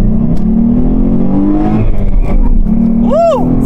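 A 2012 Ford Mustang V6 (S197) with a manual clutch runs close by with a loud, steady engine drone that rises as it revs. A brief rising and falling whine comes near the end.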